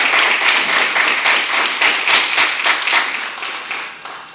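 Round of applause at a school board meeting, dense steady clapping from an audience that fades toward the end.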